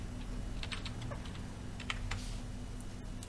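Someone types a captcha on a computer keyboard, a quiet run of separate key clicks in an irregular rhythm over a low steady hum.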